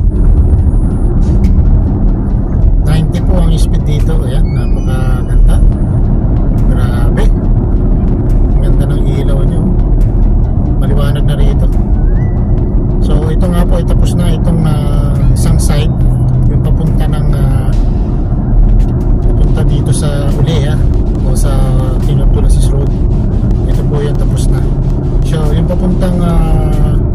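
A car cruises at about 90 km/h through a new road tunnel on Al Oruba Road, producing a constant loud low rumble of engine and road noise. Someone talks over it throughout.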